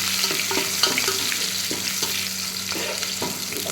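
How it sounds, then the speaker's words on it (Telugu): Ingredients for uggani, a puffed rice dish, fry in a pan until golden: a continuous close sizzle with soft scraping and occasional crackles, and nobody speaking. "చూడండి, ఇంకా ఫ్రై కావాలి, గోల్డెన్ కలర్ వస్తే బాగుంటుంది."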